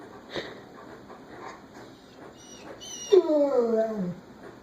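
Polar, an injured dog, lets out a faint high whimper that swells into a wavering, drawn-out whine near the end, preceded by a few soft scattered noises; nobody speaks.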